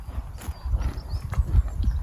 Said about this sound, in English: We're staying in this incredible field in Scotland at the moment with horses.